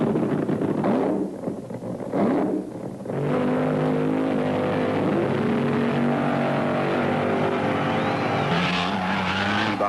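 Chi-Town Hustler, a Chrysler-powered nostalgia drag car, making a run at a 1975 IHRA Pro-Am event at Rockingham, a loud sustained engine roar with tyre screech and wind buffeting, pitch shifting as it pulls away.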